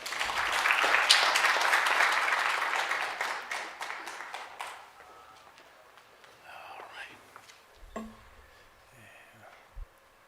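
An audience at a research outputs workshop applauds a speaker, loud dense clapping that swells, then thins out and fades over several seconds, leaving scattered claps and low murmuring.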